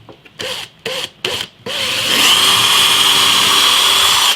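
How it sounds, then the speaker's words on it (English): A few short bursts of a power drill, then one steady, high whining drill run boring a small hole into a fence-wood guitar neck template, loud and close. "I'm just going to drill a small hole right in the middle"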